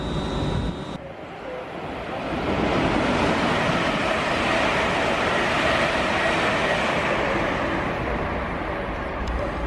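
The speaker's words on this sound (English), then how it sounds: "We've got a train coming in" Eight-carriage train from Northampton to London Euston pulling in at a long platform on the West Coast Main Line, a broad rushing roar swelling after a second and holding steady and loud.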